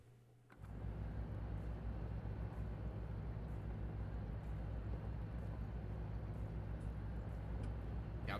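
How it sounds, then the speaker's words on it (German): A tractor engine in a farming video game, a steady low droning hum that starts abruptly after a brief pause and holds evenly throughout. "den Traktor hört halt man auch"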